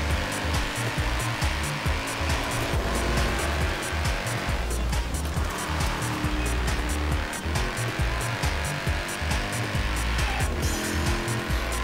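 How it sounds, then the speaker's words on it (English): Mercedes-Benz AMG C63 compressor driven in a racing video game, its engine roaring steadily and loudly for the whole stretch with rising and falling revs and occasional tyre squeal, no voices. "Today we are in the Mercedes-Benz AMG C63 compressor."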